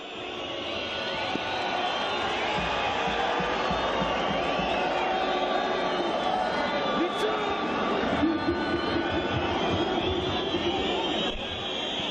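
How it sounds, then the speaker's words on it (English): A large football stadium crowd roars continuously during an AFC Champions League match, a dense wash of voices and whistling filling the space throughout, with no single voice standing out. "Crowd, you can just hear them trying to put off the opposition as much as they can"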